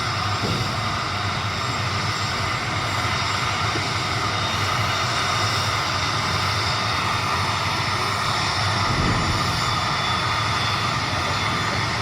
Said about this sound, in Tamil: இது காமலாபுரம், சேலம் காமலாபுரம் ஏர்போர்ட்டு.